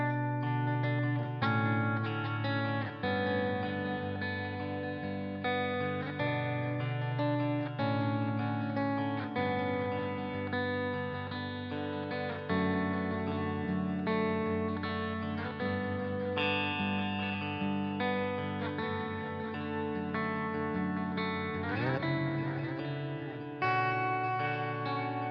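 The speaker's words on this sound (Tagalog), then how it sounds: "dito may naka-on na tayong dual delay tsaka plate reverb" Valeton GP-150 multi-effects pedal on an ambient patch with dual delay and plate reverb, playing a dense, sustained guitar wash of ringing chords with long echoing tails, steady and loud throughout with no talking.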